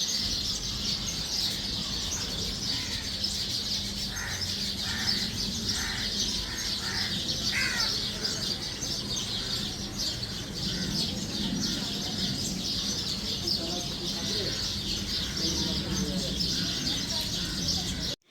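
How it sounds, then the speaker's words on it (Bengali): Birds chirp and call beside Motijheel lake in an outdoor suburban setting, with brief repeated tweets and occasional cooing over a steady background hiss; the calls sound moderately distant. "পাখির ডাক, হালকা ঠান্ডা হাওয়া আর জলের মাছের লাফিয়ে পড়ার শব্দ,"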